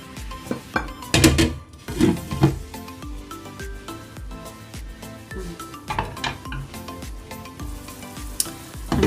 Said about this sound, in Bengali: হ্যাঁ, আমার এটা ফুটে এসছে দেখতে পাচ্ছেন, এবং তেলও উঠে এসছে একদম